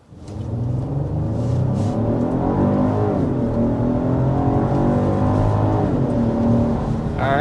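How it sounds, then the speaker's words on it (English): A 2026 Genesis GV80 Coupe SUV accelerates hard toward 60 mph, its engine note rising steadily and loud throughout with no talking. "But first, we need to start with a hard acceleration."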